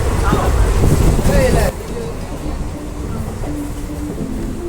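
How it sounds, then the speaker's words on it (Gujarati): A passenger train rumbles along on the way to Chotila, a close, loud rolling clatter for the first couple of seconds before it drops to a quieter steady hum, with voices nearby. "તો હાલો તમને મારા ટ્રેન બતાવું."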